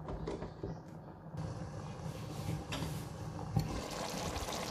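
Water poured into a pot of rice for chicken biryani, a steady continuous pouring and trickling close by, with no talk over it.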